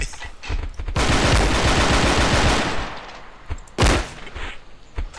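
Video game gunfire with fast-reloading shotguns in a duel: a dense sustained burst of rapid shots, then a couple of sharp, loud single blasts close up.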